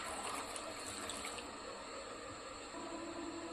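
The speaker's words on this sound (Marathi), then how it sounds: "भाज्यांमध्ये आपल्याला पाणी ॲड करून घ्यायचं आहे" Water is poured over mixed vegetables in a pot to boil them for pav bhaji, a faint, steady liquid splash and trickle running throughout with no speech.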